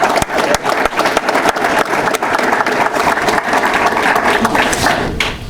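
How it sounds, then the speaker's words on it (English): Audience at a Battle of the Badges press conference gives the Titans a round of applause, loud dense clapping running steadily throughout, close and unbroken until it eases slightly near the end. "let's give the Titans a round of applause"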